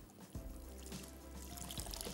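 Water pours into a pot of lentils (dal) cooking on the stove, a soft steady trickle and splash running for a couple of seconds, fairly faint and close, with no talking.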